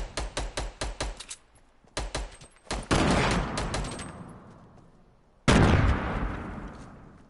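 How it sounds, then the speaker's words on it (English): Grenades going off in a Fortnite match: a rapid string of sharp gunfire-like cracks, then two loud, booming explosions a few seconds apart, each trailing off into a long rumbling decay, with no voices. "who's throwing nades?"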